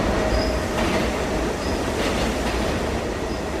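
A New York subway train rumbles steadily and close, with a broad continuous roar, faint wheel squeals and light rhythmic rail clatter throughout.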